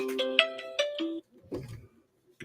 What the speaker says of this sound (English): got the darn phone ringing over here